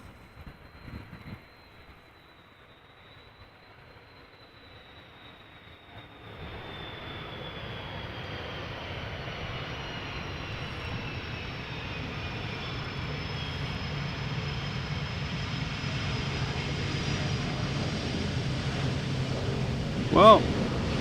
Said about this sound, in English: Turkish flight 1951 touching down, coming in from Istanbul.